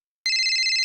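A mobile phone ringtone cuts in abruptly and rings on steadily with a bright, pulsing electronic tone, loud and alone with no voices.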